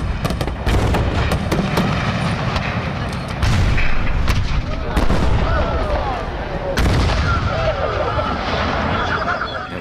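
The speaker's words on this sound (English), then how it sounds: "The mortars, a lot of the artillery, even the muskets, their original source came from the real stuff on the Gettysburg field." Mortar, artillery and musket fire from Age of Empires III, recorded from real weapons on the Gettysburg field, comes as repeated booms and sharp cracks over a steady dense battle din, with voices and shouting mixed in throughout.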